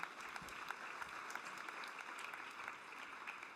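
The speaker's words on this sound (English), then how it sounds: "Let's give them another round of applause" Steady audience applause for honorees at a summit dinner, a dense, even wash of many hands clapping at moderate distance, sustained throughout without voices.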